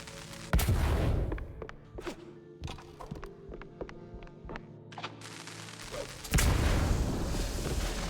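Firecrackers going off inside a wooden attic in the game Mouse P.I. For Hire: a burst of sharp bangs, then scattered pops and cracks over a low hum, ending in another dense crackling volley.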